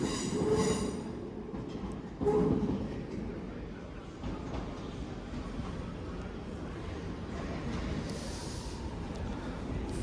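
An electric multiple unit train arrives at Crewe station with a heavy, continuous rumble and clatter, a squeal of wheels rising briefly over the steady roar close by.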